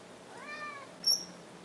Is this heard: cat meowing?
yes